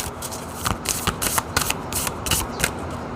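Shamans Dream Oracle cards are shuffled up close, with soft papery riffles and quick slapping flicks repeating in an irregular rhythm for a few seconds and no voices.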